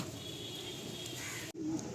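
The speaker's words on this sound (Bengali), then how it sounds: "এই এক পেয়ার হচ্ছে লালমোহন পায়রা" Lalmohan pigeons at a pigeon seller's loft in Sonarpur give a faint, brief low coo amid steady background noise.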